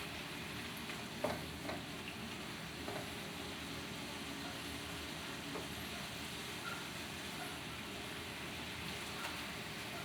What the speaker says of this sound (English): Gonna let them shrimp cook for a few minutes.